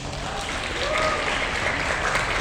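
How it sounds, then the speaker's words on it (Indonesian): A seminar audience at a national seminar claps together in a short, steady burst of applause that swells slightly, with a faint voice underneath. "tepuk tangan buat kita semua."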